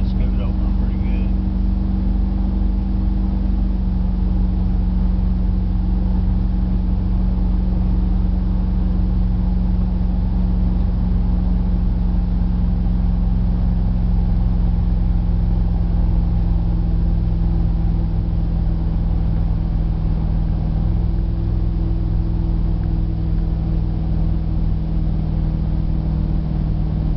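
A 1992 Dodge Dakota truck running on a gasifier engine drives uphill, its engine droning in a steady, loud, low hum from inside the cab, with someone talking over it.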